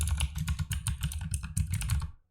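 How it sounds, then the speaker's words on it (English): Rapid typing on a computer keyboard, close and clear, with steady clusters of key clicks entering an email address for about two seconds before stopping. "Here we have to type out the client's email address."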